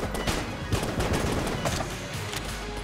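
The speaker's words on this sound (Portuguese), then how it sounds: "Tanto que eu tive que dar muito tiro pra conseguir matar, né?" Rapid gunfire from a weapon in the video game Enter the Gungeon, a dense burst of repeated sharp shots fired in quick succession, loud and up front throughout.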